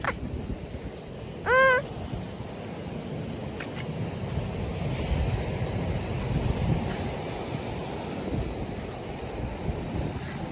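Steady wind and ocean surf on a coastline where desert meets the sea, a continuous broadband roar throughout, with a brief high chirping call near the start.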